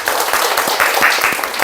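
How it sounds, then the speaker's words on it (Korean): Applause from a small group of parents at an indoor daycare parenting class, a steady wash of brisk clapping that fills the whole short stretch at moderate loudness. "네, 박수."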